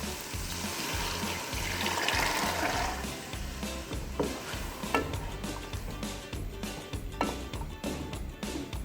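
Soaking water from chickpeas soaked since morning being poured back over them in a pot while making Lahori white chickpeas, a steady close watery pour and splash that runs for several seconds with no talking.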